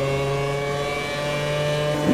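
A race car engine in the sim racing game Automobilista 2 holds a steady mid-pitched drone through a gear change, running continuously and close at a constant level.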